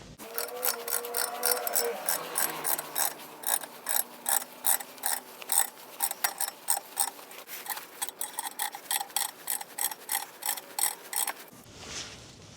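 A Tesla car jack kit raises the car with a rapid, regular mechanical ratcheting, sped up, of dense repeated clicks and whirring gear noise that runs steadily before cutting off near the end.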